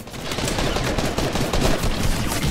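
Dense, continuous gunfire in Fortnite, loud and close, with rapid overlapping shots forming an unbroken crackling barrage that never lets up.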